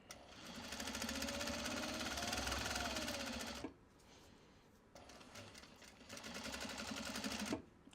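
A sewing machine chain-piecing Japanese fabric for belt bags runs in two steady, fast-stitching bursts with a rising whine, stopping briefly between them; close and clear, no talk.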